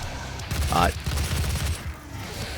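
Rapid-fire micro missile upgrade gun shooting in the Doom video game, a fast stream of close, punchy shots running through the clip, with a voice talking over it.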